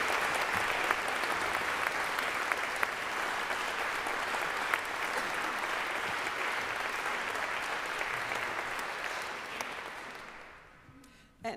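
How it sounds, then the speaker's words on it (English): A church audience at a choir concert gives the organist a long, steady round of applause, dense and even for about ten seconds before tapering off. "can we please give a wonderful, powerful round of applause to our organist, Katie Sheets"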